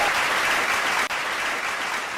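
Audience applause at an election debate event in Kanpur, India: steady, dense clapping from a crowd sustained throughout, with a brief dip near the middle.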